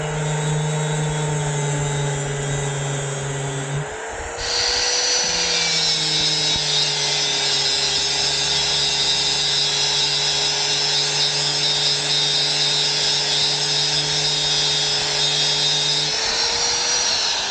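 A power grinder cuts inside a bicycle thru-axle hub being converted from 12x142 to 12x135, a loud steady high-pitched whine with a brief dip in pitch before it resumes, continuous and close.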